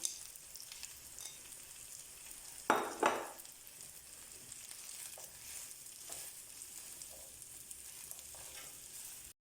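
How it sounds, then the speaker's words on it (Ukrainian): Quiet, steady sizzle of diced chicken and sausages frying in a pan for meat solyanka, with a couple of louder clattering stirs near the start and soft scraping afterward. "Курку та ковбаски кришимо кубиками, вкидаємо до сковорідки і жаримо до золотистого кольору"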